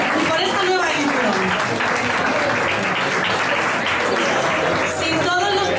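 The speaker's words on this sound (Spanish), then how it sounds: "Un aplauso, por favor, para todos" A loud, sustained round of audience applause at a live show in Estepona, thick, continuous clapping filling the whole stretch without pause.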